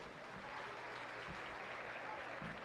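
Audience at a county fair livestock arena show gives a round of applause for a young exhibitor, a soft, distant, steady clapping wash with faint crowd murmur, no voice over it.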